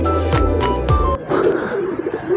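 Pet pigeons coo close by, several deep rolling coos in quick succession, followed by softer fluttering and faint chirps.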